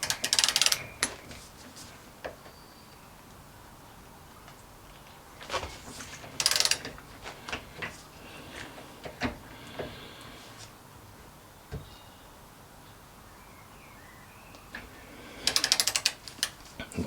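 Torque wrench tightening a fuel injector on a Cadillac, a few short sharp ratcheting clicks in separate bursts with quiet pauses between, close and fairly faint.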